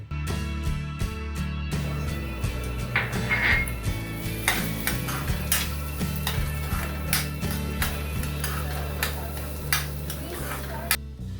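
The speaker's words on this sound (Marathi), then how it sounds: "आता हा रवा छानपैकी भाजून घ्यायचा आहे" Broken wheat (lapshi rava) roasting in ghee in a pan, stirred steadily with a spoon; continuous scraping and soft sizzle with repeated clinks against the vessel, close and fairly loud, with a low steady hum underneath and no talking.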